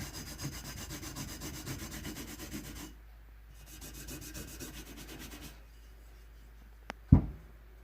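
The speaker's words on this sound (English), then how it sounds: "it's kind of hard to scrub on it because the pad likes to catch on the circle" A cleaning pad scrubs a bell with a raised circle, a close rhythmic rasping rub that pauses briefly, resumes more softly, then ends with a sharp knock.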